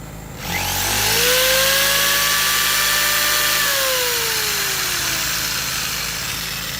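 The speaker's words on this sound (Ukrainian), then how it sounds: "Тепер вимикаю лампу і пробую 600 ватний лобзик." A 600-watt jigsaw powered by a 0.7 kW two-stroke generator, its motor buzzing up to a loud steady whine over the generator's drone, then slowly dropping in pitch as it strains, with no talking.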